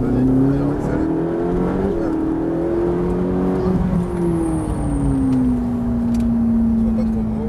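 A Ferrari 458 engine pulls hard under acceleration, its close, loud tone climbing through the revs with a brief dip at a gear change before settling, while voices talk over it.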